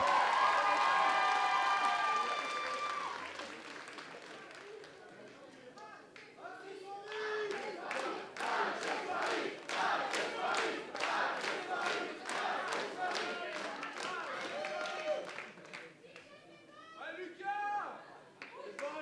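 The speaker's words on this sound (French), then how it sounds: "Allez, on les applaudit encore bien fort" Audience clapping and cheering for a cosplay group at an anime convention costume contest, a sustained crowd applause of dense rapid claps with shouts mixed in, following a stretch of talk and music at the start.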